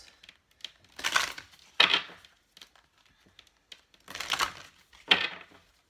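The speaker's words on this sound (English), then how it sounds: "just bear with us while I shuffle the cards" Oracle cards being shuffled by hand: four crisp riffling bursts in an uneven rhythm, close and fairly quiet, with small taps and slides between them and no talking.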